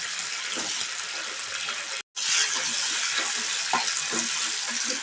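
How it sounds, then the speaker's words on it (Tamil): Shallots fry in hot oil with mustard seeds, cumin and curry leaves for a Coimbatore-style dal rice, giving a loud, continuous crackling sizzle with one brief cut. "சின்ன வெங்காயம் உரித்து வச்சுருக்கேன் அதையும் சேர்த்துக்கலாம்."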